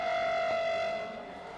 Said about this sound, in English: I think he's standing right where the sirens were, and they've just started going off